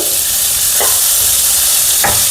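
Steady sizzling of onions and tomatoes frying in a pan, with a couple of brief stirring scrapes, close and continuous with no talking.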